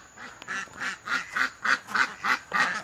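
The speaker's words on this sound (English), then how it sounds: "I'm sure you guys hear some ducks." Farm ducks quack in a steady rhythmic series of about eight loud, close calls, heard alone without talk.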